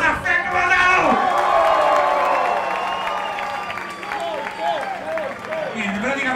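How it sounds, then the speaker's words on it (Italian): Audience applause mixed with cheering and whoops from the crowd at a live comedy and music show at an outdoor beach venue, sustained and lively, with shouting voices rising over the clapping. "Un applauso a Frank Madonna"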